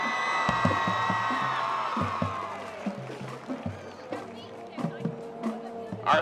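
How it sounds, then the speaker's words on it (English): A crowd at a high school football game, Albert Gallatin against Franklin Regional, cheers, whoops and applauds during homecoming court introductions, with an announcer's voice carrying over the steady, swelling crowd noise. "A round of applause for Miss Sadie Foster."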